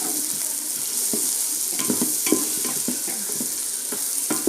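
Sliced onions sautéing for chicken noodles: steady close sizzle in hot oil with irregular scraping stir strokes of a spatula against the pan, no voices.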